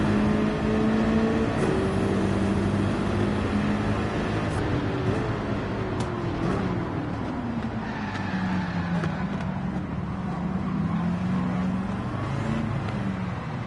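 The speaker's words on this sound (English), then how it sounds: "it's hard to hear me anyway with all the engine noises" A racing car engine in Gran Turismo 7 revs hard and steady, its pitch sliding up and down through gear changes, loud and continuous with no voices.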